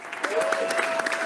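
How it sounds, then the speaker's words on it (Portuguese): An audience claps for artists on stage, a dense, moderately loud round of applause with a voice talking over it. "Todos aplaudem os artistas no palco."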